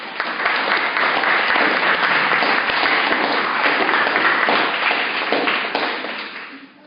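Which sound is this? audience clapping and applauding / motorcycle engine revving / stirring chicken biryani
audience clapping and applauding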